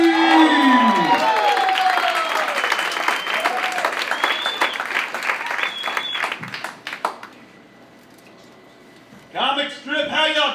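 An audience at a comedy club applauds and cheers a comedian walking to the stage. Loud clapping and whoops fill the room, fade into a quiet lull, then the comic's voice comes in at the end.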